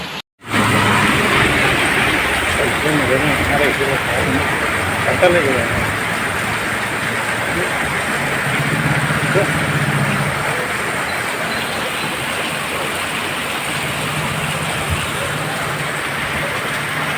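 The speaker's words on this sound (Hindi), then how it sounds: "बारिश हो रही है।" Heavy rain pouring down outside a home, a loud continuous hiss of falling water that holds steady throughout after a brief silence at the start.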